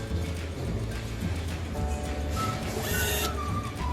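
Bluetooth thermal receipt printer printing a receipt from a food delivery app order, giving a steady mechanical whir with a brief louder feed buzz near the end, close and moderately quiet without talk.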